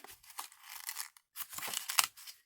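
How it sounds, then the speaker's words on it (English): Scissors cutting a paper bag along its seam for a junk journal, heard as quiet, close snips and crisp paper rustles in a few short bursts with brief silent gaps. "We're going to cut along this seam."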